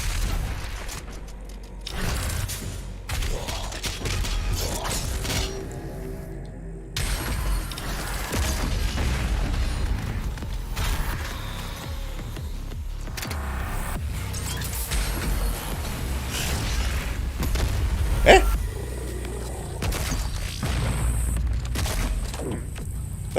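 Grenade blasts and booming game combat from the shooter Doom Eternal, with heavy low thuds and mechanical clatter running throughout and one sharper burst standing out near the end.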